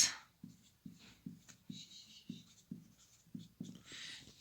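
Someone writes out a maths solution by hand. About a dozen quiet, close pen strokes fall in a steady rhythm, with light scratchy bursts between them.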